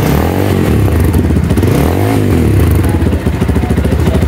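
A 2024 Monarch Tempest 250i motorcycle engine idles with a loud, throbbing rumble through its stock muffler, then revs up and settles back, its note rising and falling repeatedly, close by.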